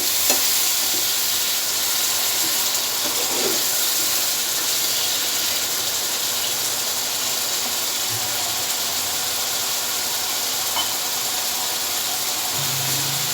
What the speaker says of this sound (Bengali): এখন সামান্য পানি দিয়ে দিব মশলাটা কষানোর জন্য।